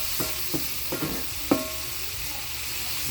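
Food fried in a pan with salt is stirred, giving four separate scraping strokes over a steady sizzle, close by; there is no talk.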